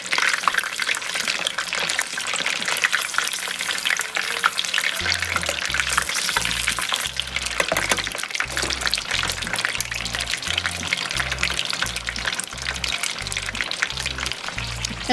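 Egg rolls deep frying in hot oil, a steady dense crackle and bubbling that runs unbroken throughout, with a low rhythmic thumping entering partway through.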